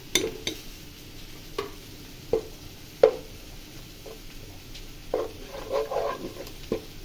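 Spoonfuls of garam masala being stirred into spices frying in oil: scattered scraping stir strokes with a soft sizzle beneath, close up and without speech.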